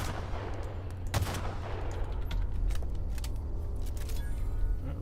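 Sniper rifle fire in The Outer Worlds, a sharp crack near 1.2 s standing out against a dense, busy game soundscape of rumble and clutter.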